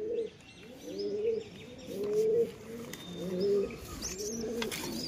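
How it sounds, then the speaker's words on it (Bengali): Cooing of Matraj pigeons, with a chick among them, repeating in soft rolling phrases close by, with light chirps and faint background twitters between the coos and no talking. "এই হচ্ছে বাচ্চা, ম্যাটরাজ কবুতরের বাচ্চা।"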